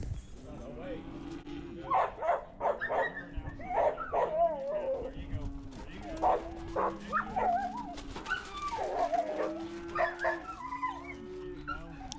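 A border collie works cattle, giving repeated yips, whimpers and short barks in an uneven rhythm at close range, while someone talks over much of the activity.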